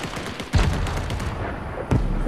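Bursts of gunfire in the Fortnite video game, a sharp shot near the start and another near the end over a steady noisy background of game sound.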